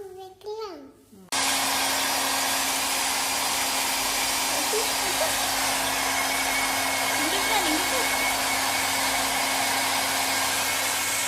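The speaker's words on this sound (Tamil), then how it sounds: "ட்ரையர் போடலாமா? முடி காய வைக்கலாமா?" A hair dryer switches on to dry freshly washed hair, a loud steady whooshing blower hum running continuously after someone briefly speaks at the start.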